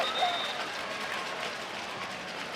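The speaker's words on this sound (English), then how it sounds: "She'll get a rapturous round of applause from the sellout crowd here tonight." Sellout stadium crowd at a women's World Cup qualifying football match, Wales against Russia, giving sustained applause as a wash of distant clapping and cheering, with a brief whistle near the start.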